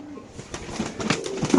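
Red-marked pigeons at a market pen coo in low, throaty bursts that pulse through the short stretch, with flutters and a busy backdrop of other birds around them.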